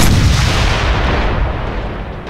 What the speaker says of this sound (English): this is a freakishly loud ass gun